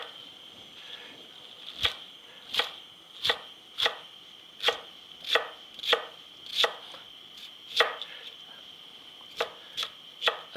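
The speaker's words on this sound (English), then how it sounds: "cut it coarsely" A knife chops coarsely through bok choy on a cutting board, landing about a dozen crisp, evenly spaced strokes at close range with no talking.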